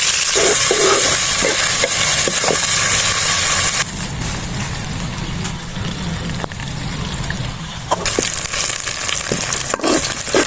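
Loud, steady sizzling of finely chopped onions frying in hot ghee, with occasional stirring scrapes and clinks; the hiss dips briefly midway, then returns.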